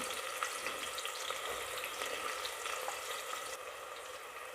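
Steady, close sizzling of onions sautéing in hot oil, a continuous crackling hiss with faint stirring, no voices.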